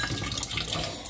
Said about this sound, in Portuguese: vou jogar mais um pouquinho de água